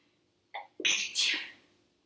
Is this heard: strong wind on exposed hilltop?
no